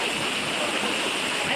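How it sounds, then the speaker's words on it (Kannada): A river flows in a continuous, dense rushing wash with steady loudness, close by, and no clear talk over it. "look at the river."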